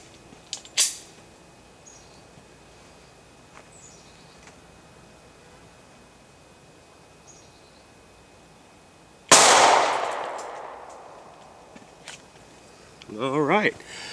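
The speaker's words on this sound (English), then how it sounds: "let's shoot the new Hornady line into some calibrated gel, four layers of denim" A single loud shot from a Glock 23 pistol firing a .40 S&W Hornady Critical Duty 175-grain round into ballistic gel behind four layers of denim, cracking sharply after a quiet stretch, followed by a brief voice.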